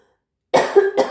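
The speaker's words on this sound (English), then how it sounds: "I feel like I got a cough." One short throat-clearing cough from a woman during a tarot reading, sharp and close after silence, followed by a brief second rasp.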